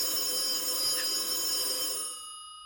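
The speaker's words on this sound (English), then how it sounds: "there's our phone. That's our important person phone in the other room." A telephone rings in another room, its bright electronic tone faint and steady, then trailing off and fading out.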